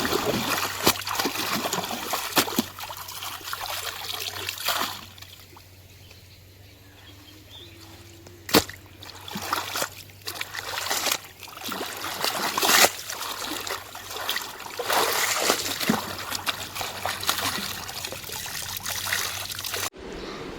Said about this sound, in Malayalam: ചില കൂട്ടുകാർ വിചാരിക്കും എത്താ അവൾ പുഴയിൽ അലക്കണൊക്കെ വീഡിയോയിൽ കാണിക്കണമെന്നൊക്കെ